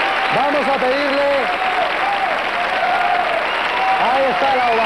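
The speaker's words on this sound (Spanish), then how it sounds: "ahí está la ovación, de gala también." A studio audience at a 1995 Spanish television game show gives a sustained ovation, loud dense applause from start to finish, with an announcer speaking over it.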